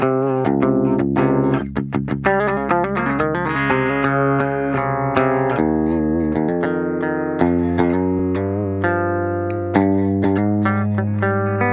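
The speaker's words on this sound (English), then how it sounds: "Let's try adding in this compressor again." An electric instrument runs through a compressor on an Antelope Audio ZenTour Synergy Core interface, playing a continuous distorted passage of chords and picked notes with steady, even loudness.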